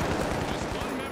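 Dense, loud gunfire in the online shooter The Finals, a continuous rattle of overlapping shots filling the short stretch with little pause.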